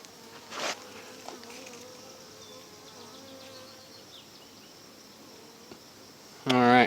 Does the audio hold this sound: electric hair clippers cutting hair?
no